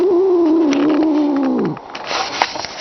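An outdoor cat gives one long, drawn-out meow that slides downward and cuts off, followed by faint scuffling and a small click nearby.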